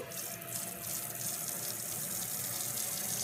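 Warm water runs steadily from a tap during a Yorkie's bath, a close, continuous splashing rush with no pauses and no voices.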